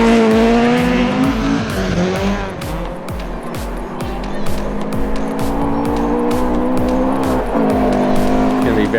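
Classic rally car driven sideways on Imbil Forest roads: a loud, close engine revving hard with rapid gear-change pulses and tire scrabble, rising and falling as it drifts through corners.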